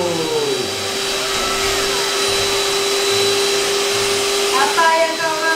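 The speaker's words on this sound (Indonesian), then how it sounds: "Lepas tu ambil mixer tu, buka speed paling tinggi selama 1 minit." Electric hand mixer running at its highest speed while beating horseshoe cake batter, a steady loud motor whine throughout with a slight pitch shift near the end.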